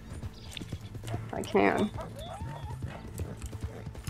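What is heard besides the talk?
horse hooves and neighing in a video game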